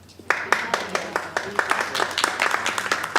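An audience at a school board of education meeting claps, producing a loose run of overlapping hand claps that carries on for several seconds in a room, with voices faintly underneath.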